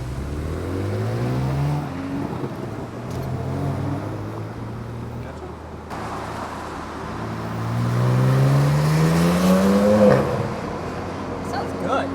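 A BMW G80 M3 engine and exhaust rising and falling through revs, with a deep, loud note climbing steadily near the end while people talk around it.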